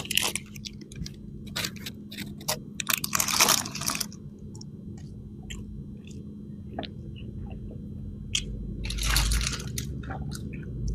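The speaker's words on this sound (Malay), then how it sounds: "jom kita cuba burger ini, burger daging special cheese" Biting and chewing a special beef burger with cheese, close and crisp, with bursts of crunching and wet squishing between quieter pauses and a faint steady hum underneath.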